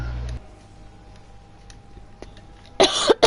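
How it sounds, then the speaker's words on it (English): A man coughs in a harsh, close burst of two or three hacks near the end, after a quiet stretch with a faint background hum; he is a heavy cigarette and weed smoker. "I'm coughing all the time because I'm smoking weed, too"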